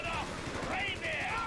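A Churchill tank firing at a house in Company of Heroes 3, a short, rapid rattle of gunfire over a continuous loud battle din.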